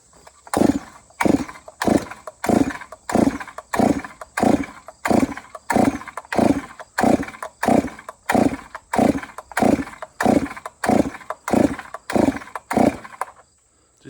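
A ported Holtzfforma G366 chainsaw, a Stihl MS 361 clone running on alcohol, is pulled over repeatedly: about twenty rhythmic bursts of cranking and sputtering, close and loud, that never catch into a steady run.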